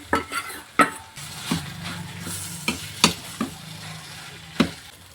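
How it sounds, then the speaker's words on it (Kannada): Mashed potato and paneer stuffing is stirred in a pan, with soft scraping and a faint sizzle broken by several sharp clinks of a utensil against the metal. The sound is quiet and close. "ಇವಾಗ ಇದು ಸ್ಮ್ಯಾಶ್ ಮಾಡಿದ ಆಲೂಗಡ್ಡೆ ಹಾಕೋತೀನಿ"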